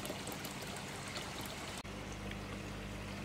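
Water trickles and pours into a koi pond from a DIY automatic top-up valve, a steady close rushing flow with a brief dropout partway through, heard alone.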